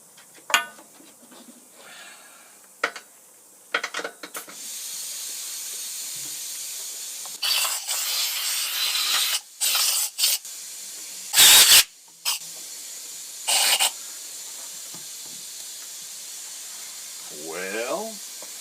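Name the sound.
compressed air blowing from an air hose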